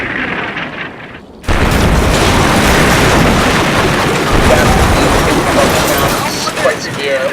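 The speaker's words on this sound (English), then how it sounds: "Just continuing here to do some preparatory bombardments." Preparatory artillery bombardment in the war game Combat Mission Shock Force, a sudden loud burst of explosions that swells into a dense, continuous rumbling barrage with scattered booms, the level staying high to the end.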